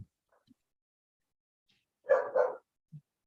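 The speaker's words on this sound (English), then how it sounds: "because the dog's barking" A dog gives two quick barks close by, followed by a short soft yip, with faint small noises before them and nothing else in the background.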